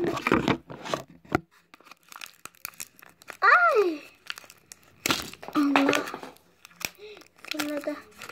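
A surprise package is torn open, its plastic wrapper crinkling and crunching in short close bursts between a child's chatter.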